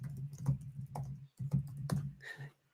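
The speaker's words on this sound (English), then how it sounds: "I was typing in the chat." Computer keyboard typing in short irregular bursts of clicky keystrokes, fairly close, with a steady low hum underneath and a brief pause midway.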